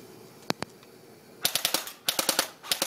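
MP5 airsoft gun fired at a shed: two separate pops, then rapid bursts of sharp, close cracks in quick runs of four to five shots.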